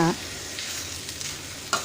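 Pumpkin leaves and stems sizzle in a hot pan with a steady, soft hiss, with a brief clatter of stirring at the start and again near the end.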